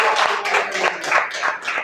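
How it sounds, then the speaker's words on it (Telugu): An audience at a church gathering claps together in a short burst, about seven evenly spaced, fairly loud claps in a steady rhythm. "ఒకసారి చప్పట్లు కొట్టండి"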